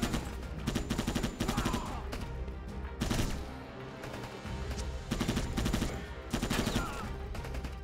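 Rapid bursts of gunfire in Rambo The Video Game, loud repeated automatic volleys in several clusters with short gaps between them, close and sharp over game background sound.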